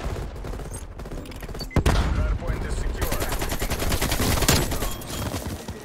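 Rapid AK-47 bursts fire in Call of Duty Cold War, dense automatic gunfire rattling steadily for several seconds, loud and close, with game effects beneath.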